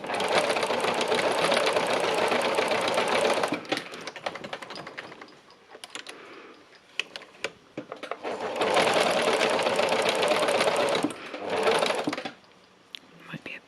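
A sewing machine stitches fabric in short bursts, a rapid close mechanical clatter that runs for a few seconds, stops, then runs again, with quiet talk in the gaps.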